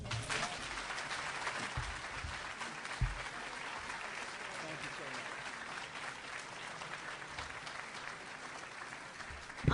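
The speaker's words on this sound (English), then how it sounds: "Let's give him another hand of applause." An audience at a university alumni talk on politics gives a sustained round of applause, dense clapping from a full room that holds steady for about ten seconds, with a few brief voices.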